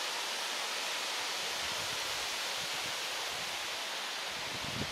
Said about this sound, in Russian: Просто в лесу из мхов вытекает ручеек.